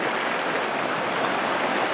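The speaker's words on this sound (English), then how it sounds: "there's fast water here" Fast-flowing river water on a trout stream rushes in a steady, dense broadband roar that stays close and loud, holding without a break the whole time and with no voices over it.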